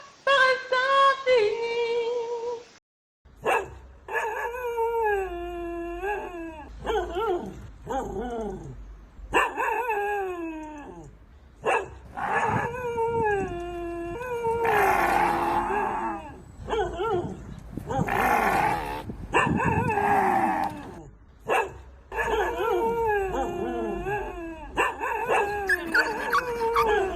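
Several dogs howl in long wavering tones that overlap, mixed with sharp barks and yelps, loud and close and continuing almost without a break.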